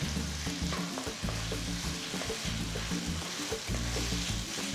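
Finely chopped medium tomatoes frying for a curry leaf chicken fry, a loud continuous sizzle with busy stirring and scraping close up throughout.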